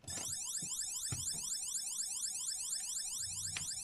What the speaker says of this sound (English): it's got its own working fire alarm